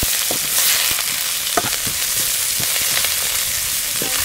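Curry leaves, spices and onion frying in oil in a pan for mulai keerai kulambu, a steady close sizzle with scraping stirs of a spoon breaking through at irregular moments, no voices.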